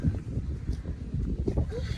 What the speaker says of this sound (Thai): ว้าลม